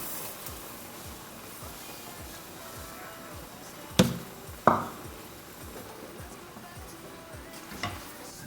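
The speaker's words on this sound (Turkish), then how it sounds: "Çilekle şeker bu şekilde karıştırılırken" Strawberries and sugar are stirred in a pot over low heat for jam, giving soft rhythmic scraping strokes, with two sharp clinks in the middle and a faint one near the end.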